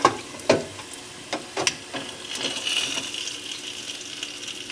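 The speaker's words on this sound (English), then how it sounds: "we're gonna get to frying the rest of these up" German pork shanks frying until crispy, with a sizzling crackle of hot oil under several sharp clinks and knocks at the start, then a steady bubbling hiss.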